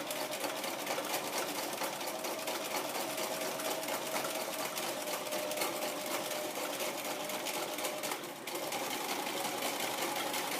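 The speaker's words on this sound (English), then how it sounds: "we're going to stitch counterclockwise all the way around the inside" A domestic sewing machine runs steadily, stitching around a hexie star template with a continuous buzzing whir at close range, only briefly dipping near the end before carrying on.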